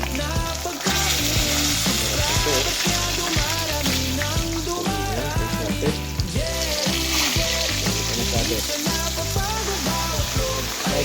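Tulingan fish fries in a pan with a constant, close crackling sizzle that runs throughout, while steady tonal background sound plays over it.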